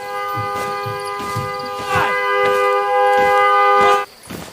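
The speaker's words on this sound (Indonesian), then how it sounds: "menaruhnya di klakson mobil sehingga menarik perhatian" A car horn blares in one long, continuous, loud tone for about four seconds, then cuts off abruptly, with faint rhythmic noises underneath; from the horror film In a Violent Nature.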